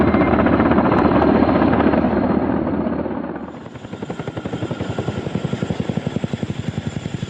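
Soviet Mi-6 heavy-lift helicopter, a loud, steady rotor roar that shifts into a clear rhythmic blade chop, with no voices.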